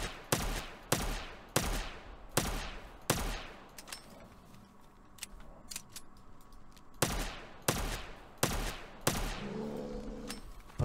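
Gunfire in the survival game Dysterra: a run of sharp, loud shots in quick bursts, a quieter gap with scattered distant pops, then more close shots resuming.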